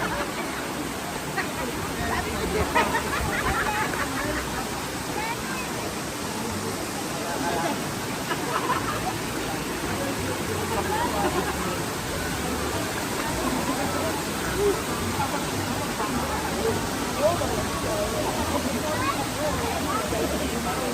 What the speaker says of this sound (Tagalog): tinry din namin mag-swimming, magbabad sa waterfalls.